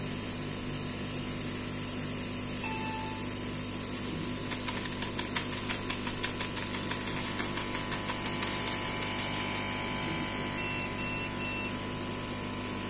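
A CO2 laser cutter runs a cutting pass, with a steady mechanical hum joined midway by a quick series of rhythmic ticking pulses that fade out, then a faint electronic beep near the end.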